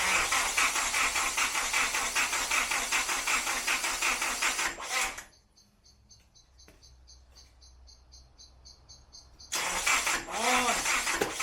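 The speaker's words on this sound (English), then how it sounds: "Alright Joe, give it a crank." Rebuilt Nissan 180SX engine cranks loudly for about five seconds, cuts out to a quiet pause with faint chirping, then fires up again with a strong, close roar.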